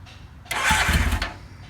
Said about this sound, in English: Let's fire it up and see what it sounds like.